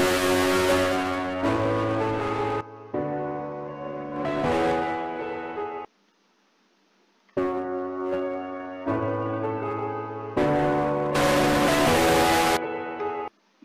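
A looping synth-style music phrase with a distortion effect gives a gritty tone, repeating in bars with a short gap of silence midway.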